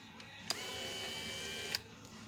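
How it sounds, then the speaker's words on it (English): An Infiniti G35 power window motor, unmounted from its regulator, runs on a bench test with a steady close electric whine, bracketed by a sharp click at the start and another at the stop, with no talk. "we test the motor"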